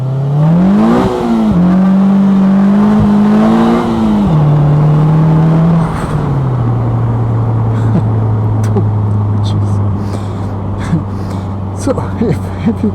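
A 2022 Polaris Slingshot SLR engine revs hard and close, pitch climbing and dropping through several loud rev cycles before settling into a steadier high drone, with a faint voice underneath.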